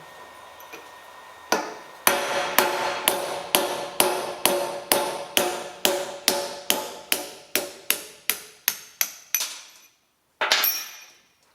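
A metal pin punch is struck by a hammer about fifteen times in a steady, sharp rhythm, close and ringing, driving a rivet on a Massey Ferguson 135 tractor differential, followed by a final scraping burst.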